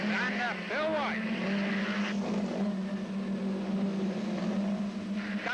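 Hot rod race cars roar around the Newton Abbot oval during the 1983 British Championship, a steady loud engine drone with passing cars under continuous commentary.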